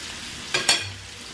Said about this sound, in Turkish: Şimdi bu marine edilmiş tofularımızı tavada biraz kızartacağız.